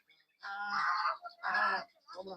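Geese on a village dairy farm honk in loud, close bursts, two long nasal calls followed by a shorter cluster, with brief gaps between them.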